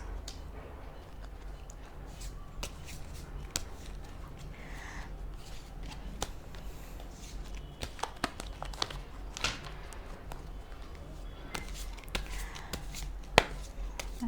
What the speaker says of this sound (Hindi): मैं सारे कार्ड्स पुल कर लेती हूँ।